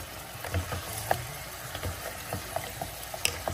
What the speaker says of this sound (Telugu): మటన్ అంతా ఇట్లా వేగుతున్నప్పుడే మనం ఇందులో అల్లం వెల్లుల్లి పేస్ట్ వేయాలి.